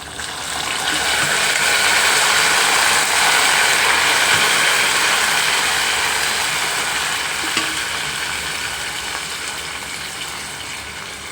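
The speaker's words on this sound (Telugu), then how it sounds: "తాలింపు అయితే వేగిపోయిందండి" A Telugu-style tempering for tarvani lakshmi rasam sizzles and crackles steadily in hot oil, a dense continuous frying hiss that stays loud throughout with faint stirring clicks and no talking.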